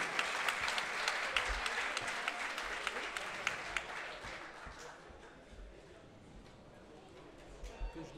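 Crowd applause for boxer Vedat Otuk in the red corner at a boxing event, loud clapping and cheering at first that fades after about four seconds, leaving a quieter hall with murmuring and a few scattered claps.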